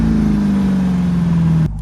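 A 2023 Dodge Durango Hellcat with a Hemi V8 holds a loud, steady low engine drone up close, its pitch easing slightly downward before cutting off abruptly.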